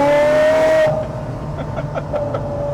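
A Ferrari F430 Scuderia engine hums with a loud tonal note at first, then drops to a lower, rougher drone with faint rising whines while driving, heard close and without talk.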